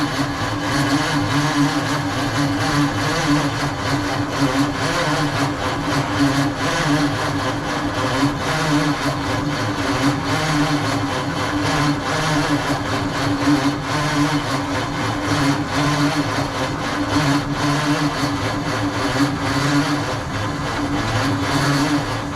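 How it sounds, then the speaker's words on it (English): An old 1948 Ford F5 truck engine running with a leaky fuel system, a loud, steady, rough mechanical drone close by that holds an even rumble throughout with no talking. "It's the engine sucking air in."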